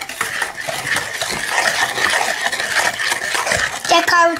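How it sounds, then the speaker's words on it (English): Batter for cookies is whisked in a bowl with steady scraping and clinking, as children and an adult talk over it. A brighter clatter comes near the end. "Tell me when you think that's enough whisking."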